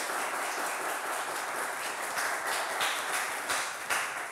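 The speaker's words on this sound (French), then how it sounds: "Merci de l'applaudir à nouveau." Studio audience applauding a contestant on a French game show, a steady, dense wash of clapping that holds evenly throughout without voices on top.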